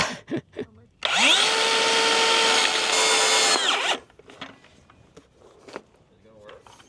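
A power tool with a toothed blade cuts through plastic drain pipe for a French drain, a loud, steady high whine of about three seconds between short bursts of nearby talk.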